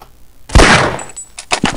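Gunfire in the video game Half-Life, a single sharp close shot followed by a decaying burst of noise, then a few quicker clipped impacts near the end.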